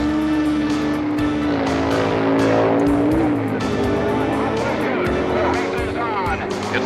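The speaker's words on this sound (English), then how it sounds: "where Arlen Banky's Barracuda goes at it with Wally Booth's quick Camaro" Vintage 1960s NHRA U.S. Nationals drag race between a Plymouth Barracuda and a Chevrolet Camaro muscle car: loud sustained engine roar with tire squeal, under continuous announcer commentary.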